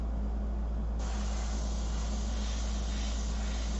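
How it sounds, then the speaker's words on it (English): Airbrush spraying paint during a portrait painting session, a steady soft hiss of air and paint running continuously, close and alone with no talk. "Just make sure that it's spraying okay."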